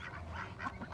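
Ducks being fed mango fruit quack and honk in a faint, busy cluster, several calls overlapping against low background noise.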